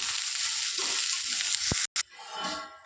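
Cabbage, capsicum and spring onion stir-fry on a high flame, a steady bright sizzle with scraping stirs and a brief clatter near the end, close and continuous.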